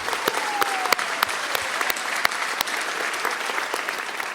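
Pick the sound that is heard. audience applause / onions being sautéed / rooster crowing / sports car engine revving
audience applause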